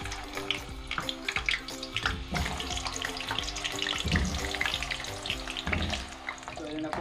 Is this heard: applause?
no